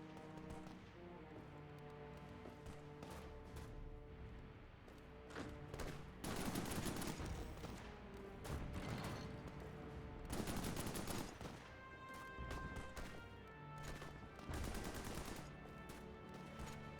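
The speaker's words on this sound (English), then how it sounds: "I hear machine guns." Bursts of machine gun fire in the World War II strategy video game Hearts of Iron IV, rapid rattling volleys recurring every few seconds over a continuous musical background.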